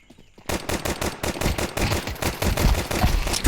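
A long sustained burst of automatic gunfire in a shooter game, starting after a short quiet moment and running steadily loud and close, shot after shot, with no speech.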